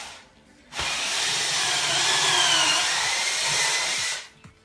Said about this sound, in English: you drill in the holes